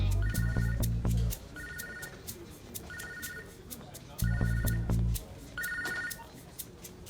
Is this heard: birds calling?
no